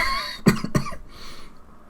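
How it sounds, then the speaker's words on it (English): A person coughs twice in quick succession, close and fairly loud, followed by a brief quieter throaty sound and then near silence. "It's made me cough because that goal's gone in."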